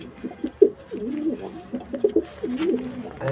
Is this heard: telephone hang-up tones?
no